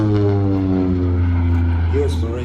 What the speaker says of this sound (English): Now you can see the aircraft coming in what would be a typical strafing pass.